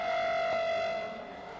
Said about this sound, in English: I think he's standing right where the sirens were and they've just started going off